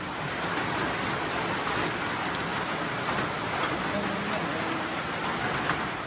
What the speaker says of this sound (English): the thunder started rolling in, and it looks like it's going to rain for a while